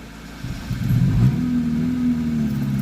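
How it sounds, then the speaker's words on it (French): A Peugeot 205 engine fires up on ethanol and revs, a close mid-pitched car engine catching and climbing to a sustained rising drone. "Va-t-elle démarrer? Démarrage à l'éthanol."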